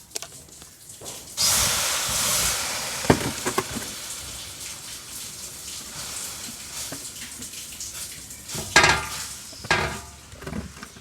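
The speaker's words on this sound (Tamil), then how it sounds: "கல்லை வத்த வச்சு தோசை ஊற்றிக்கலாம்." Dosa batter for a Madurai-style chicken kari dosa is poured onto a hot griddle, bursting into a loud hiss that settles into a quieter, steady sizzle, with a few scraping taps and a second hissy flare near the end; no one speaks.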